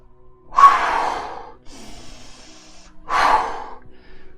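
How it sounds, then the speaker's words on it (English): Belly breathing in a breathwork routine drawing into the lower abdomen: two sharp, forceful breaths close to the mic with a softer airy breath between them, loud and without talk. "essentially what you're doing is you're in-breathing into that lower dantian, into that belly"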